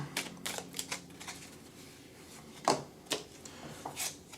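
Mini tarot cards from a Making Magic deck are shuffled by hand, giving soft, irregular riffling taps and flicks in short bursts, close and fairly quiet.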